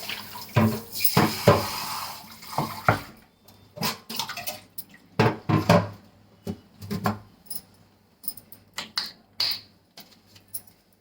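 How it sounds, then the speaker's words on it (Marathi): A new stone mortar and pestle being scrubbed with soap under running water, with a tap splashing and stone clattering in uneven bursts, close and fairly loud, with short quiet gaps between bouts. "आता हा खलबत्ता धुवून घेते प्रथम आता पहिल्यांदा ना धुवून घेते साबण लावून चांगलं"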